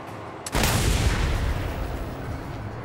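A single heavy gunshot in the video game Mad Max hits loud and booming, then rolls off into a long, rumbling decay with no speech.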